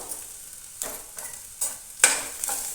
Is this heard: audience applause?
no